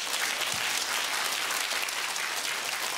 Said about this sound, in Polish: Jeszcze raz będę prosiła publiczność o duże brawa